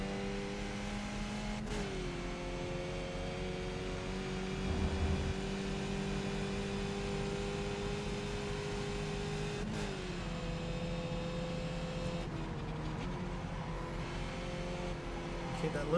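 A Skip Barber race car engine in the iRacing sim holds a steady buzzing whine. It drops and climbs in pitch as the driver shifts down through the gears, with a person talking over it.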